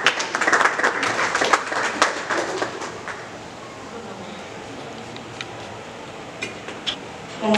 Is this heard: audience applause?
yes